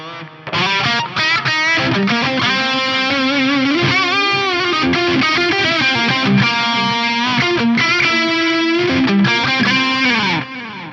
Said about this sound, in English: but then it washes away into this beautiful ambient reverb